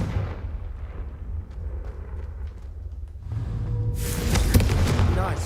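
The Confringo blasting spell goes off in the video game Hogwarts Legacy: a steady low rumble swells into a loud, sudden fiery blast that keeps roaring to the end.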